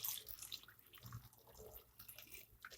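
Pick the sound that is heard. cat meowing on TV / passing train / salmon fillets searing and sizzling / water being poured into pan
water being poured into pan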